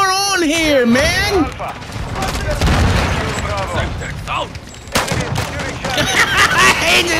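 Shotgun blasts in a video game come as several heavy booming shots spread through the clip, mixed with game noise and a voice talking over the action.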